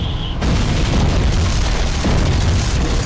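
A bomb explodes in the flight game Wings! Remastered, a sudden loud boom that rolls into a long, dense, rumbling roar lasting several seconds with no talk over it.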